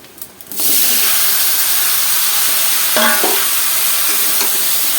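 Vegetables hit a hot pan with dried chili and radhuni spice for a Bengali thankuni leaf curry, bursting into a loud, steady close-up sizzle and hiss with a brief stirring scrape.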